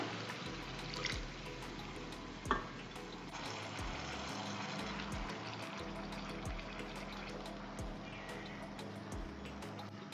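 Liquid squeezed from grated bottle gourd is poured into a pan of halwa with sugar, a continuous close splashing trickle over a low background hum, broken by occasional soft knocks.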